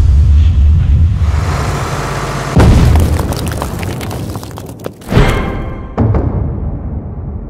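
A time bomb bursting on a bus, heavy booms and rumbling blasts repeating loudly with sharp crackling hits, one big eruption near the middle and another toward the end, with no voices.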